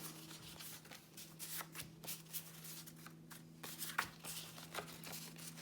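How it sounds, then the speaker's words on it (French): Sheets of patterned design paper being picked up and handled for a mini-album carousel craft project: quiet, repeated papery rustles and flicks come in irregular bursts over a soft background hum, with no talking. "on va commencer par prendre une feuille de papier design de chaque type"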